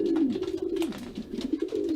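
Racing pigeons cooing close by in a loft, soft repeated low throaty coos with uneven rhythm, clear and alone.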